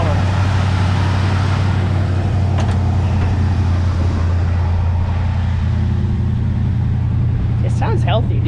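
An old Ford F100 pickup's engine idles steadily and low close by, a smooth continuous rumble, with brief sharp higher noises near the end.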